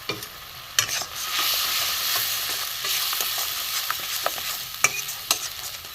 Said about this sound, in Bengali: এখানে আমার দেখুন লঙ্কা গুঁড়ো, হলুদ গুঁড়ো, নুন, জিরে ধনে গুঁড়ো একটু আমি একসাথে এর সাথে আমি কষে নেব